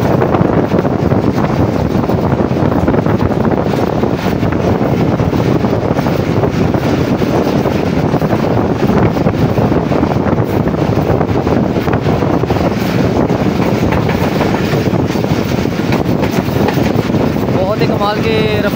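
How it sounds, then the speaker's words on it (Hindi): The 10 DN Allama Iqbal Express rolls into the Jahanian station yard at speed, a loud, steady rumble with rushing wind noise that holds without a break from start to end. "इस वक्त ट्रेन हमारी जहानिया रेलवे स्टेशन के यार्ड में दाखिल हो चुकी है"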